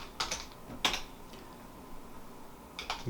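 Keys tapped on a computer keyboard while entering a git command, a few separate clicks and short bursts spread over about three seconds at moderate, close range with no voices.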